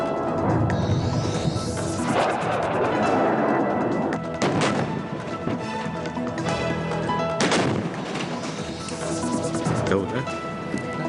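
Live-ammunition gunfire during a military demonstration exercise, loud and continuous, with heavy repeated bursts and booming blasts over the whole stretch.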